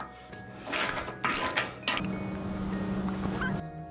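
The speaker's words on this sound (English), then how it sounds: "now you take your extension and your 19mm socket and tighten the bolt up." Someone tightens a bolt on a tire hitch mount using an extension and a 19mm socket, producing a few close metallic ratcheting clicks in short bursts, then a steadier mechanical whir with faint background noise.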